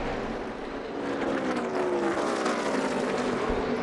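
NASCAR Xfinity Series race cars roar around the Dover track on the final lap, a dense, sustained engine drone with rising and falling pitch, heard from a distance without talk.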